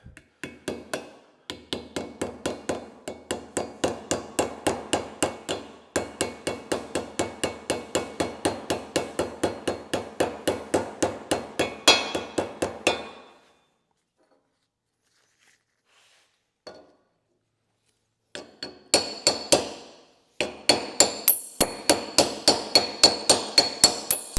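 A bearing seal being tapped into a Case 1840/1845C skid steer housing with a hammer on a piece of scrap brass, producing steady rapid metallic taps in bursts, then a pause, then several louder strikes to finish.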